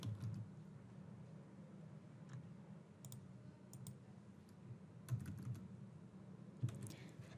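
Steady close clicking of keys as a message is typed on a computer keyboard, quiet and continuous with a few sharper taps, no talking.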